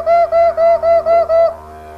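A human voice imitates a kookaburra call, six rhythmic rising-and-falling hoots in quick succession, loud and close, then fading out.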